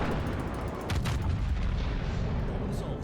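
Warship main guns in World of Warships fire as a sustained, heavy salvo of booming blasts, a dense rumbling barrage for about three seconds with sharper cracks near the start and a louder swell midway.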